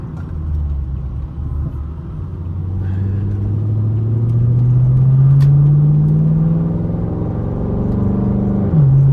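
A Chevrolet Camaro SS engine revs up close, its pitch climbing steadily as it accelerates, then dropping briefly near the end as it shifts.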